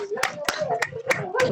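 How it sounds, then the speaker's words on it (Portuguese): A few people clapping at a medical talk, five or six sharp separate claps with a voice talking underneath. "Palmas para todos nós."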